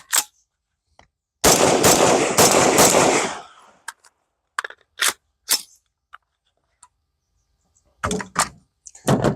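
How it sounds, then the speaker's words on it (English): A rifle magazine is handled and inserted, giving a burst of scraping metal handling followed by a series of sharp clicks and clacks, close and distinct, with quiet gaps between them. "You can put the magazine in."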